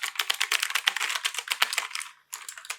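Fast, rapid keystrokes clatter on a Frisby FK-G8530QM Pandora mechanical gaming keyboard with blue switches, crisp and close, in a dense burst that pauses briefly before a few more clicks.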